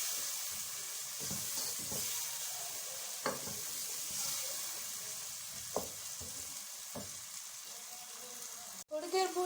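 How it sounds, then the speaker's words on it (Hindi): Ginger and chicken frying in a pan, a steady sizzling hiss with occasional stirring clinks and scrapes, and a sharp knock near the end. "अब इसको भून लेना है अच्छे से।"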